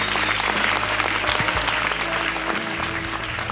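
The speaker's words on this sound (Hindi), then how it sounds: "जोरदार ताली अली और काशिफ के लिए" Studio audience at a comedy show breaks into loud, sustained applause for two contestants, dense clapping filling the room from start to finish with a faint crowd murmur underneath.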